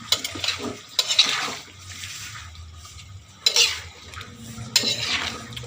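Adobong sitaw, string beans simmering in adobo sauce, stirred in a pan in a country kitchen, giving repeated scraping clinks of utensil on metal in bursts over a soft background sizzle, with no talk.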